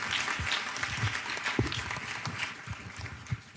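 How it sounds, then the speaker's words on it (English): Audience applause for students from Northeast High at a Philadelphia public meeting, a steady patter of many hands clapping together at moderate volume throughout, with no voices over it. "Can we have another round of applause for the students"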